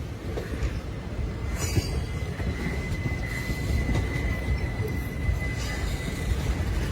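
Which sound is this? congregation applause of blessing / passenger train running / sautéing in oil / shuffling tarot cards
passenger train running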